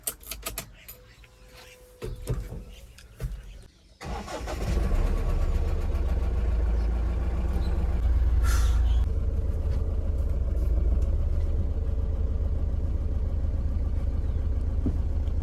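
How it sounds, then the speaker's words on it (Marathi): Pickup truck engine starts after a few sharp clicks and knocks, then settles into a steady, loud, close idle that runs on evenly as the vehicle is moved aside. "चला तर पिकअप तरी बाजूला घेऊ"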